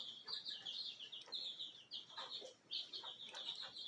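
Soft clucks and high chirpy peeps from a young cockerel chick, repeated in short bursts close by, with faint background rustling.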